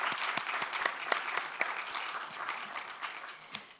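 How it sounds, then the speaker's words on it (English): An audience at a youth poetry showcase applauds, a moderate scattering of claps with several sharper, closer ones standing out, gently fading toward the end. "We'll give you a round of applause."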